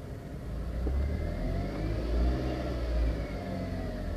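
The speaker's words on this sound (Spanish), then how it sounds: "Voy a acelerar un poco y vean las reacciones que tengo." A Chrysler Sebring with an alternator fault revs briefly with the mid-pitched engine rising and settling, close by and steady, with no talk over it.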